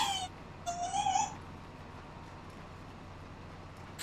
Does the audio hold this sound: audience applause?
no